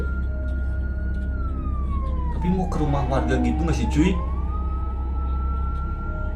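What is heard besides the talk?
ambulance siren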